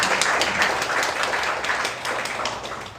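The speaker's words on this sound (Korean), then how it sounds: "이럴 때는 박수 한번 보내주세요" An audience at a Democratic Party members' meeting breaks into applause, a dense patter of many hands clapping that fades slightly over a few seconds.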